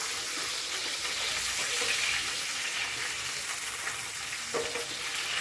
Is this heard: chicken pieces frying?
yes